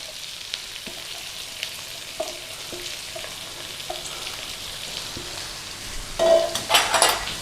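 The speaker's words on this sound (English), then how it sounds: "we're going to go in with some cumin seeds, and then we're going to go in with our onion" Cumin seeds fry in a pan with a soft, steady sizzle and occasional faint utensil taps, then onion goes in and brings louder crackling and stirring near the end.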